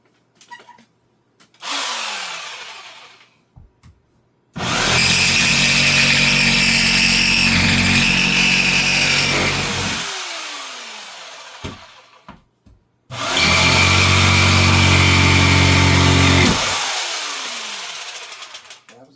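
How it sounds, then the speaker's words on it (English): A jigsaw cuts into a wooden cabinet in two long, loud, buzzing bursts, the first about five seconds and the second about three, each with a rapid rattling chatter and separated by short quiet gaps with small clicks, preceded by a brief trial rev. "got my jigsaw."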